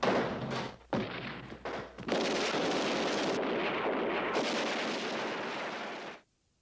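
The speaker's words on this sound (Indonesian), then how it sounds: "Dan tembak-menembak pun terjadi antara polisi dan penjahat." Gunfire in a film-scene shootout between police and criminals after an attack on a government building: loud, dense bursts of shots and blasts that roll on almost without a break, then stop abruptly.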